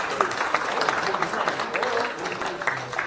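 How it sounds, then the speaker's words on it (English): Applause from the crowd at a boxing weigh-in, a steady, somewhat distant wash of clapping in a large space with faint crowd noise beneath it. "Let's clap it up for these two warriors."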